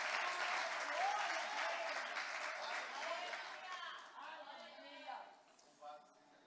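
A church congregation applauds God during an evening service, a dense wash of clapping from many hands that holds steady, then thins and fades away, leaving scattered voices at the end.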